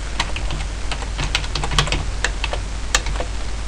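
Rapid typing on a computer keyboard, close and clear, with irregular clicking keystrokes over a steady low hum, no voices.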